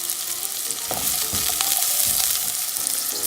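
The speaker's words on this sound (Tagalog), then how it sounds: "Simulan na po natin igisa yung sibuyas." Onion and garlic sauté in a pan for ginisang corned beef, a dense close sizzle with light spatula scrapes and stirring knocks running throughout, no voices.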